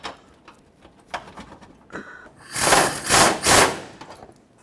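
A bolt being threaded into the front bumper bracket of a 2009-2014 Ford F-150, heard as a few close mechanical clicks, then three louder bursts of rasping, ratcheting tool noise near the end.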